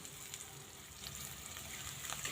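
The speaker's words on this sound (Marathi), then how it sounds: "तिला तेलावर छान बारीक गॅसवरती फ्राय करून घ्यायचं" Cut green chillies and urad dal fry gently in oil with a little salt over a low gas flame while tempering for upit (upma). The sizzle is soft, steady and quiet, with no talking.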